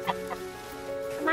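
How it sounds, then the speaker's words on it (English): A chicken clucks a few times close by outdoors around domesticated goats, short clipped calls in quick succession. "I caught a chicken."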